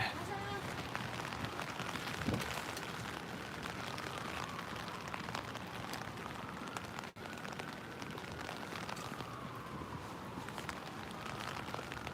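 Rain falling on a Manhattan street in New York City's Upper West Side near Lincoln Center, a constant dense hiss of drops on pavement with faint city noise underneath, steady throughout.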